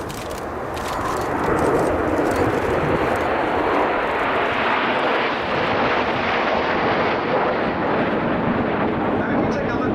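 Red Arrows Royal Air Force jets flying in formation at an air show, a loud, rushing roar that swells and holds steady overhead, with a commentator talking over it.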